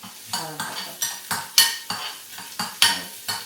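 Mustard seeds and fennel seeds sizzle in hot oil for tempering, with rhythmic scraping strokes of a spoon or ladle in the pan roughly every half second, close and fairly loud, no talking.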